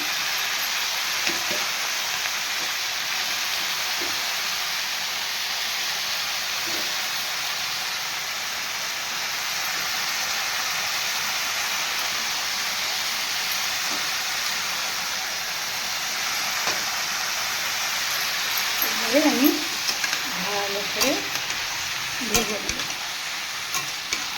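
Pieces of jackfruit for a curry fry in a pan with oil and a little salt, giving a steady, loud sizzle throughout, with a few stirring scrapes and clatters near the end.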